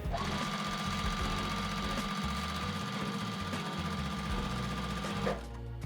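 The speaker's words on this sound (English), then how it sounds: "sew these pieces together" Sewing machine stitching quilt pieces together, a steady fast mechanical whir and rapid needle clatter running close and continuous, then stopping abruptly near the end.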